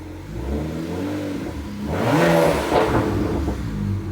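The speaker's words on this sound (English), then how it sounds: "I'm revving it, and everything looks fine" A BMW E92 335i engine with a 3.5 bar MAP sensor idles, then revs up loudly in a rising surge before settling back to a steady rumble.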